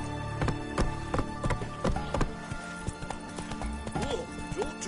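Geralt's horse Roach gallops in The Witcher 3: Wild Hunt, a fast, rhythmic clip-clop of hooves close by with whinnies and snorts over game music, and no talking.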